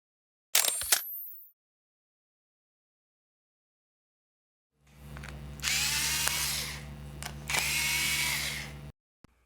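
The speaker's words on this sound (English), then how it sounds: "Remove motherboard screws." A power screwdriver removes the motherboard screws from a Dell 3100 laptop, with a brief whir near the start, then a longer loud whining run in two pulses after a pause.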